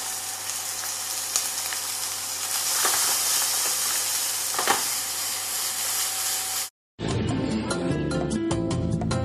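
Chopped shallots fry with chicken gizzards in a pan, giving a steady close hiss and sizzle for several seconds. The sizzle then stops abruptly, and after a moment of silence music begins.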